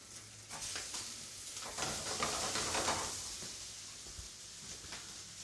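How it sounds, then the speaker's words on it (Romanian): Quiet sizzling and crackling of ham frying in a pan, with soft clinks and stirring sounds rising and falling. "Deci pun puțin jambon la prăjit."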